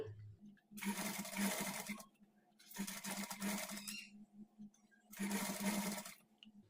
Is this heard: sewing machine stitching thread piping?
yes